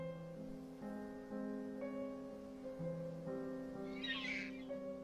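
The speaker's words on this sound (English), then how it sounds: "A dying crow, not much life left in it." A dying crow in the horror video game The Last Door gives strained, drawn-out squawking calls over sustained droning tones, with a brief harsh rasp near the end, fairly quiet and with no talking.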